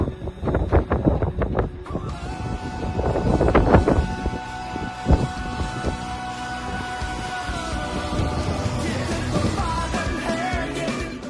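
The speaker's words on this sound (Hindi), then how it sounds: "काफी तेज हवाएं चल रही हैं इस वक्त" Strong wind gusting across an apartment balcony at night, a loud steady roar with buffeting against the microphone and some bursts of noise.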